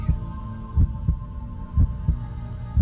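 Heavy, muffled heartbeat thuds from the video game Racing Lagoon, in double beats over a low steady hum, each pulse deep and booming, repeating at a slow, regular pace.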